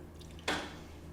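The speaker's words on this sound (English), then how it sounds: "You're gonna grab your floor cleaner and your scoop. You're just going to pour one scoop" A single scoop of powdered floor cleaner pours into an empty mop bucket as one short, soft rushing burst that trails off over about half a second, close and fairly quiet.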